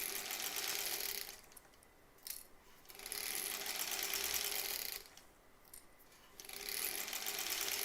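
A sewing machine runs in steady bursts while stitching granny squares for a quilt, a continuous mechanical whir that stops briefly twice and resumes, close and fairly loud with no talking.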